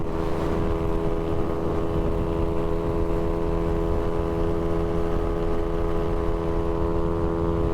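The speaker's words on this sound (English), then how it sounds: "let's open her up and see how she does" Big bore Navi motorcycle at full throttle around 60 to 65 mph, a loud, steady engine drone with a strong constant pitch, recorded close from the rider's position with heavy wind rumble and no talking.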